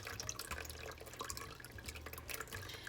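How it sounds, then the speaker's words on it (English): Caustic lye water solution poured slowly onto a spatula into an oatmeal, milk and honey soap mixture, giving a steady, quiet trickling and dripping stream throughout with no talking. "we're going to add in our lye water solution. And we're going to pour it very slowly so that it doesn't splash"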